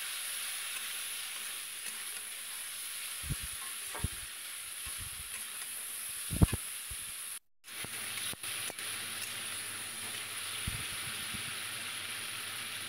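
Hilsa with spices, chilli powder and green chillies frying in a pan: a steady close sizzle throughout, broken by a few spatula stirs and taps and one brief dropout.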